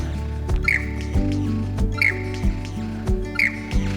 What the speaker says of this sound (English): Never heard a bird like that before.